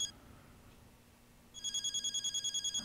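Phone call ringing tone in the video game Duel Love: after a near-silent stretch, a bright electronic ring starts and pulses steadily in quick repeated bursts, clear and alone.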